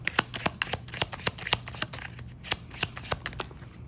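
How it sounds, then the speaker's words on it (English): Playing cards being shuffled during a tarot-style reading, with rapid crisp riffles and snaps in a steady irregular rhythm, close and fairly quiet, with no talking. "let me keep shuffling."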